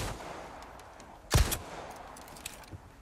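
A single gunshot rings out in the Resident Evil 4 Remake, one sharp loud crack with a brief echoing tail against a low ambient background.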